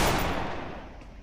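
Gunfire in the battle-royale video game Free Fire, a dense burst of shots that starts loud and gradually fades over about a second, with no talk over it.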